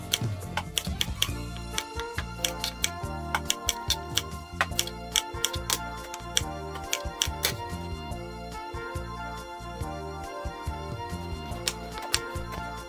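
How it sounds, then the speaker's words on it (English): Brussels sprouts chopped with a knife on a board, a fast run of sharp, close taps and clicks repeating steadily for several seconds. "Cut up those Brussels sprouts."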